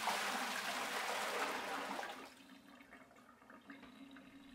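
Water pouring and splashing into the lower chamber of a Berkey gravity filter fitted with new PF2 reduction elements, a loud steady rush for about two seconds that then drops to a faint trickle and drip.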